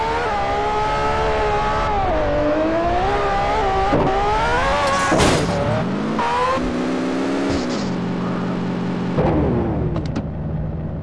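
A car engine in a GTA game revs and accelerates while driving, its pitch rising and shifting through gear changes with a steady loud drone and occasional bumps and thuds.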